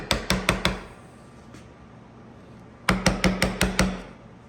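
Two bursts of sharp, ringing mallet strikes on a chisel, four in quick succession, then after a pause five more, chopping waste from the front of a hand-cut classic dovetail in wood; close and loud, no talking.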